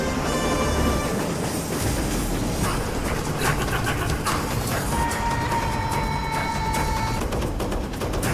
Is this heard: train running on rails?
yes